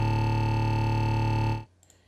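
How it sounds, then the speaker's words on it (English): Fuzz distortion plugin effect on a sustained tone, a loud, harmonically dense buzzing drone that holds steady, then cuts off abruptly into near silence. "You have fuzz distortion."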